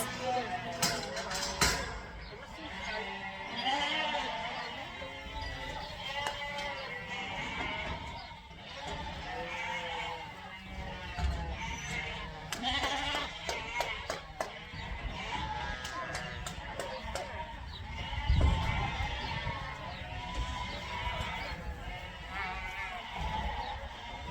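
Sheep and lambs on a farm at weaning and feeding time bleat almost without pause, a dense overlapping chorus of wavering cries near and far, with occasional thumps and clatter underneath.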